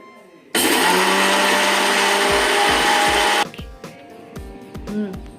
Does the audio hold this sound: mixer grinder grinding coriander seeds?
yes